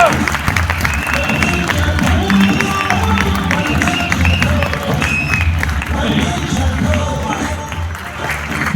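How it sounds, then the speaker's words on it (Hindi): An indoor audience at a celebration event claps loudly and continuously, a dense wash of applause mixed with crowd noise and some voices, sustained throughout. "बजाओ जोरदार ताली एक बार इनके लिए।"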